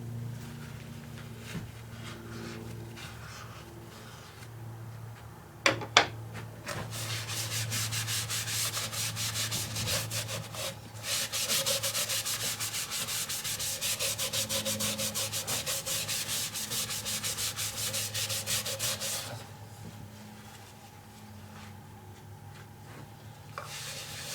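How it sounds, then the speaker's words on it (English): A cloth presses OB shine juice into a spinning live-edge wooden bowl on a lathe, a steady close hissing rub that swells into loud continuous friction over the motor's hum, then eases off near the end. "I want to see if I can give this a good rub polish with the OB shine juice."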